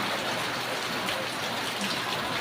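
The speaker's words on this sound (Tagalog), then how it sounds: "So, umuulan pa kasi ngayon." Heavy rain pouring down steadily, a dense, even hiss of drops striking surfaces, loud and constant throughout with no voices.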